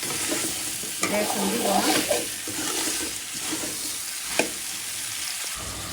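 Turnip and mixed vegetables sautéing in a pan, a steady close sizzle with scraping stirs and a few sharp knocks of the utensil against the pan, while someone speaks briefly over the cooking.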